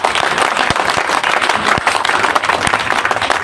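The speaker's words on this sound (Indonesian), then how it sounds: "Tepuk tangan, Bu Mama." Guests clap at a church wedding blessing just after the couple is declared married, a loud, close, continuous burst of applause with a few sharper claps standing out.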